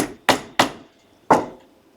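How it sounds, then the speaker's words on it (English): Three sharp hammer blows pound cording into a hard board, two quick strikes then a pause before a third, each loud and close with a short ringing decay, no voices. "pound it in with the hammer"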